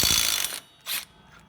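A ratchet loosening a 16 mm bolt near the belt guides of a John Deere LA135 riding mower: a loud, close burst of rapid clicking for about half a second, then a second shorter burst of clicks, with no talk.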